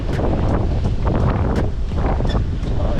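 Loud, continuous buffeting of wind against a microphone during a gravel bike ride, rough and gusty throughout, with no voices.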